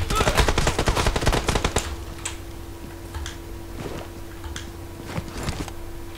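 Rapid automatic gunfire in the mobile shooter PUBG Mobile, a loud close burst of shots that stops abruptly and gives way to scattered single distant shots over a low steady hum, with faint talk.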